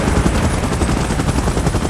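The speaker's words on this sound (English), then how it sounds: "Chopper in position." A helicopter in the PUBG Mobile video game hovers in a dense, loud, steady rotor thrum with rapid rhythmic chopping pulses, filling the short stretch with no talking.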